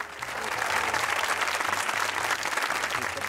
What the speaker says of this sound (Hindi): उनकी जानिब आपकी भरपूर तालियों में जनाब रहमतुल्लाह आमिर।